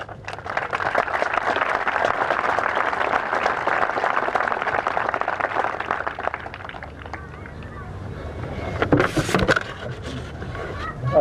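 An awards ceremony crowd applauds steadily for several seconds, a dense wash of clapping that thins out toward the end, with a few voices and a sharp burst of noise surfacing as it fades.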